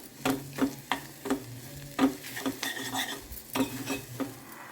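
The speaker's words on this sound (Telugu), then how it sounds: "ఇప్పుడు కొబ్బరితోటి పాటు ఉల్లిగడ్డ కొబ్బరి రెండు ఫ్రై అవుతున్నాయి" Coconut and onion frying in a pan, a faint sizzle under repeated scraping and knocking of a spoon against the pan in an uneven rhythm.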